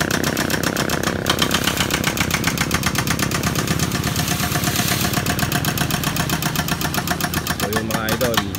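A Komatsu machine's engine runs loud and steady close by, a constant rhythmic mechanical chugging throughout, with voices talking faintly under it.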